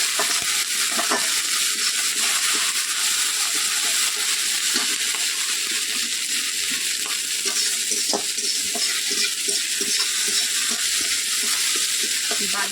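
Cumin and ginger paste sizzles and spits in hot oil in a pan, the setting a koi fish dish in the making. A steady close frying hiss runs throughout, with occasional light stirring clicks and no talk.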